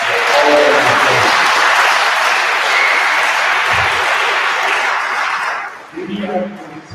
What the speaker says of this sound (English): let's give yourselves and them a huge, huge round of applause